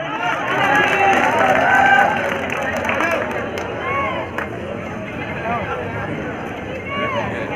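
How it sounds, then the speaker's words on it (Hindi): Crowd applause and cheering for contestant number 11 at a gym bodybuilding show in Sahawar, a dense, steady wash of clapping and hubbub with a voice and tonal sounds riding over it. "वही 11 नंबर के लिए जोरदार तालियां हो जाए."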